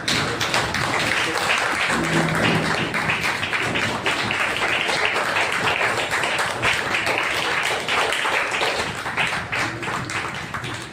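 A church congregation applauds loudly during a worship service, with dense continuous clapping and some thumping that stays steady and close for the whole stretch.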